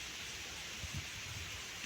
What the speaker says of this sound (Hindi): बारिश है वो थोड़ी थोड़ी